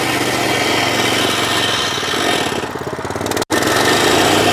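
A small pull-start engine, still warm, runs at a loud steady drone close by, briefly dipping and cutting out for an instant before roaring back.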